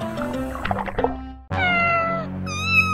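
A cat meows loudly and close by, first in a watery burbling sound, then in two long drawn-out wailing meows after a brief break.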